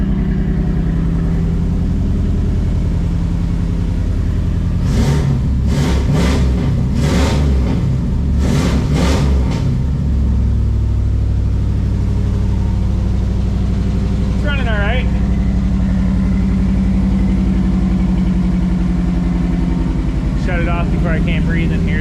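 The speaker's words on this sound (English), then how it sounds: "I can't wait to hear what it sounds like with that 3-inch exhaust on it." A 1985 Pontiac Trans Am engine with a new 3-inch exhaust rumbles loudly and steadily at close range, idling throughout with a few throttle blips partway through, while someone talks over it at times.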